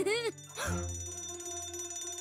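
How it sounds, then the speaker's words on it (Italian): A bright, warbling electronic alarm rings in two quick bursts, followed by a sustained low hum with a faint high ringing tone. "Oh oh, l'allarme!"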